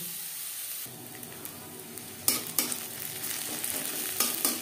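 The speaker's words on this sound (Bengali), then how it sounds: "আমার কড়াইটা বড় রয়েছে তাই অসুবিধা নেই, পেঁয়াজও ভেজে নেব।" Onions frying in a large wok for winter vegetable fried rice, a steady soft sizzle throughout with louder bursts of crackle and stirring scrapes in the second half, close by and without talk.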